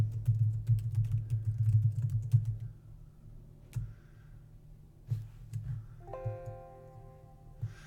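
Fast bursts of typing on a computer keyboard in a Word 2016 lesson, a dense run of clicks over a low hum for the first few seconds, then a few scattered keystrokes and a brief tonal chime near the end.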